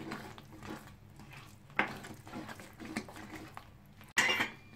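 Spoon scraping and clinking in a pan while dum aloo masala with red chilli is mixed, steady soft scrapes with a sharper metallic clatter near the end, close and fairly quiet.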